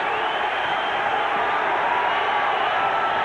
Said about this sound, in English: The crowd responding to the hometown favorite, James Leija, with 1 minute remaining in this 5th round